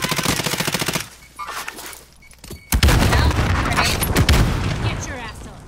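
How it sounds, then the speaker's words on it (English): Rapid automatic gunfire in a shooting game, loud and close, with bursts at the start and a heavier sustained volley later that blends into rumbling impacts, with talk from players mixed in. "Y'all keep shooting."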